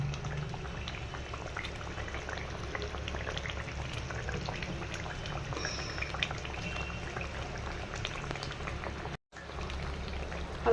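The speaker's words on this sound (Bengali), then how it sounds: "এখন শুধু এর ওপর আমি একটু সর্ষের তেল, অল্প করে সর্ষের তেল এর ওপর দিয়ে দেবো।" Mustard oil goes over a simmering pomfret fish curry, and the pot keeps up a steady bubbling and crackling throughout. There is a brief dropout near the end.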